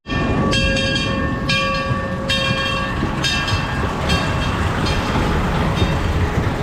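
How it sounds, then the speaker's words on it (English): A train passing at the Portaventura theme park, a loud steady rolling rumble with clattering wheels and sharp tonal squeals or horn-like tones sounding in short bursts across the passage. "The train's in the way."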